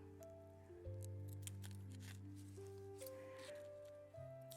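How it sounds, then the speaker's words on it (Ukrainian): A few soft, close snips of dull scissors against quiet background music, each a short crisp cut through a thin plastic nozzle. "відрізаємо тоненький носик"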